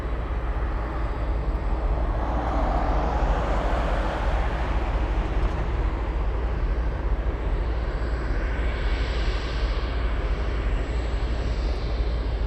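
A Cathay airliner taxis at Anchorage airport, a steady distant jet-engine roar that swells and fades gradually over a continuous low rumble, with no voices.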